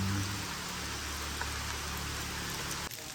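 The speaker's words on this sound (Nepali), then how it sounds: "झन् ठुलो पानी पर्यो" Heavy rain pours down steadily outdoors at Gokarna while people shelter beneath a tree, a dense, even hiss of falling water with no voices heard.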